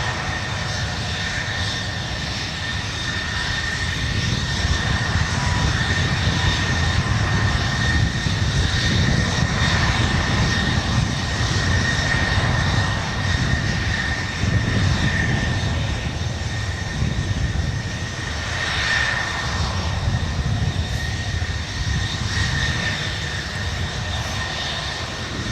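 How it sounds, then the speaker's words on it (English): An Air Canada Boeing 737 MAX 8 jet departs San Francisco International Airport, a steady broad engine roar that swells slightly mid-pass and holds loud and continuous throughout, with no talk over it. "There goes Air Canada up to Vancouver, flight 565 today,"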